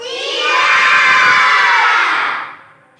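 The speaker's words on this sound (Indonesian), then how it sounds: "Kita coba tepuk kelas 4." Fourth-grade schoolchildren in a classroom shout out a class clap cheer together, a loud, bright chorus of young voices swelling for a couple of seconds and then dropping off abruptly.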